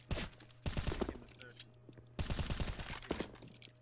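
Bursts of rapid automatic gunfire in a Counter-Strike match on the Train map, two long close volleys with separate single shots between them, loud and sharp.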